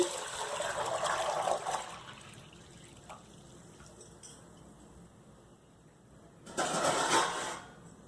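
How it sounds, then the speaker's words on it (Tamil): Water gushes and splashes into a pot for about two seconds, then a quiet stretch with small clinks, followed by another short burst of pouring. "இதில் தண்ணி சேர்த்துக்கோங்க."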